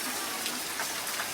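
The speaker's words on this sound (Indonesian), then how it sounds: "Pas di rumah Mang Pep hujan deras" Heavy rain pours down at a house, a dense, even hiss of falling water that stays loud and unbroken throughout with no voices.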